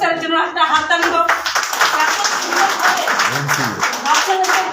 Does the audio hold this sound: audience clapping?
yes